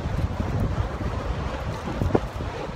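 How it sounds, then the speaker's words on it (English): Wind gusting across a microphone on a cold, windy day near the seaside and wind turbines at Southwick, a steady broadband roar that fills the whole clip with no talk. "Cold, windy day down here today."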